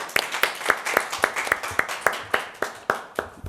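At a policy forum on community suicide prevention, a speaker is welcomed with sparse clapping: about a dozen crisp, evenly spaced claps in a steady rhythm, fairly close and distinct rather than a dense crowd roar.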